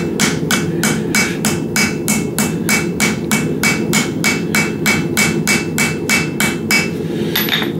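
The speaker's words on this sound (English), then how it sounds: "I'm looking for that metal on metal sound. Tap, tap, tap goes the blacksmith." A hammer peens metal pins set in a knife handle, metal ringing on metal in a steady, even series of about twenty sharp, close taps with no voices.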